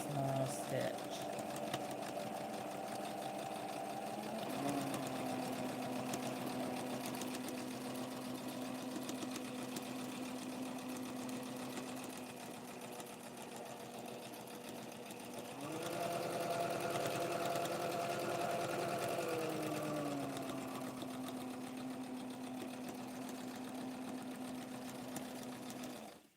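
A sewing machine stitches a small doll with a very small stitch, a steady mechanical whir and rapid needle clatter that runs continuously, pausing and shifting pitch around the middle before resuming, fairly close.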